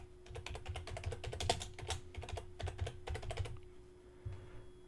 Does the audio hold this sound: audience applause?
no